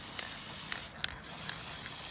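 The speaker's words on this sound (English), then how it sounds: "Just shake it up real good, give it a good shaking, and just spray your brakes with them." Aerosol brake cleaner sprays onto the brakes of a Toyota 4Runner in a steady, loud hiss that cuts out briefly near the middle and then resumes.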